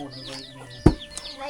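Chickens cluck softly in a remote forest village where rice is pounded by hand, with a single dull thud breaking in midway and faint background murmur.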